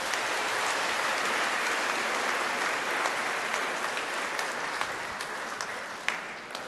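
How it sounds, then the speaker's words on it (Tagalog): Churchgoers at a homily clap loudly together, a dense, sustained roar of applause filling the whole stretch at a steady, close level. "pumalakpak ng malakas?"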